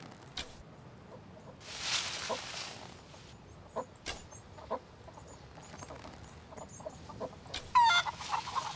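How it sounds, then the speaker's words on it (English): Chickens cluck in scattered bursts through quiet outdoor ambience in the survival game SCUM, a flock heard at moderate distance, fairly faint, with no talk. "There is a herd of chickens over here."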